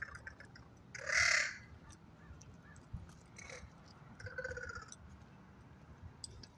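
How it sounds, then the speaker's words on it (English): A single loud crow or raven caw stands out near the start, followed by fainter calls later over a low, steady outdoor rumble. "they're native, by the way. The crows and the ravens."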